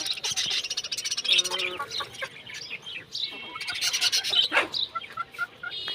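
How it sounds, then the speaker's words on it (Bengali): Chickens and ducks call close by, overlapping clucks, squawks and chirps in uneven bursts with no one speaking. "এই যে আমাদের মুরগিগুলো এই যে হাঁস এই যে হাঁস তিনটে"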